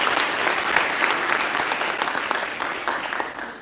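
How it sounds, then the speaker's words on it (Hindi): An audience at a Hindi comedy poetry show (hasya kavi sammelan) claps loudly and steadily, a thick, close burst of many hands that eases off slightly toward the end, with no talk over it. "एक बार जोरदार तालियां हो जाए"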